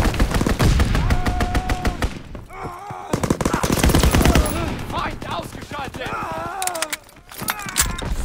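Dense, sustained machine-gun rattle from a strafing fighter plane in Call of Duty WW2 multiplayer, loud and continuous with brief dips, layered with game voice lines and tonal effects.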